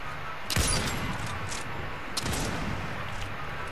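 Sniper rifle shots crack out in a shooting video game: one sharp close blast, then a second softer report a moment later, over a steady hiss of game ambience.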